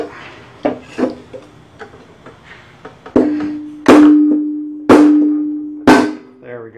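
Hammer blows strike a lawnmower flywheel during a repair: a few light taps followed by four loud metallic clangs at roughly one-second intervals, each leaving a ringing tone that slowly fades.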